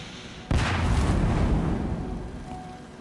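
A single loud bomb blast in the video game Horizon Zero Dawn, a sudden close boom that rumbles on and slowly fades over a few seconds, heard alone.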